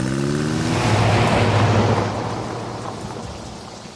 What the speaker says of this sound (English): they were now watching the storm lash the big glass window